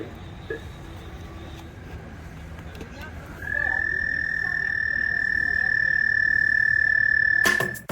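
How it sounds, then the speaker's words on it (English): Quiet outdoor ambience at a zoo wetlands pond with faint noises, then a loud, sustained frog croaking sound from a soundboard plays for about four seconds before cutting off. "the silence can be filled with this frog soundboard"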